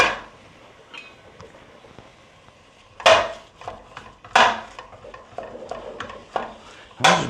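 Sausage is broken into crumbles in a pan with a utensil, giving sharp scraping and clanking hits against the metal at irregular intervals over a soft background sizzle.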